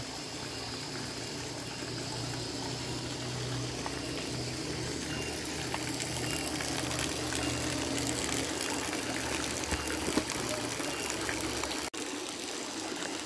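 Spring water flows continuously at the cave-like Sumber Galing spring in Pujon, East Java, a steady close rushing wash of water with a low rumble underneath.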